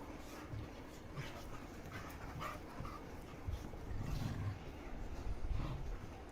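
Two dogs, Mutton and Lucci, play roughly, with faint panting, snuffling and scuffling, plus soft whimpers and low growly bursts heard at a distance under a steady background hiss.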